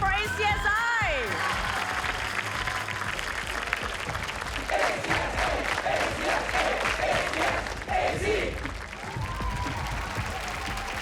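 Sustained audience applause with cheering at a national STEM championship grand final, honouring Anglo-Chinese School (Independent) as first runner-up; dense clapping fills the hall, and a host's voice is heard briefly at the start.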